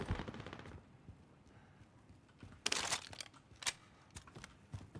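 Incoming gunfire hitting the player in Call of Duty, with sharp cracking shots and impacts in short clusters at the start and again later, separated by quieter stretches of low background noise.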